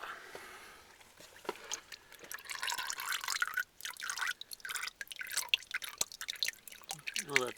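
Old engine oil drains from a 1996 Isuzu Rodeo during an oil change, giving irregular, fairly faint splashing drips and trickles that go on continuously, with no voices heard.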